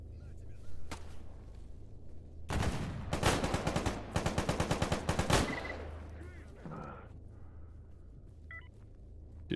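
Automatic gunfire in the shooter STALKER GAMMA, a sharp volley of rapid shots followed by a burst of evenly spaced rounds, then quieter scattered sounds fading out.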